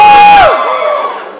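A large crowd at a college show cheers and whoops loudly, then the roar cuts off sharply into a fading echo.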